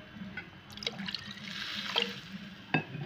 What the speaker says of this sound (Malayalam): നമുക്ക് കറിക്ക് ആവശ്യമായ വെള്ളം ചേർത്ത് കൊടുക്കണം.